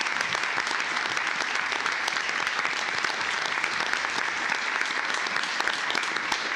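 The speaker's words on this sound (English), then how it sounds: "Please give those folks a round of applause" Steady round of audience applause at a county commissioners court session for the Tarrant Regional Auto Crimes Task Force, dense crackling claps held evenly throughout at moderate volume.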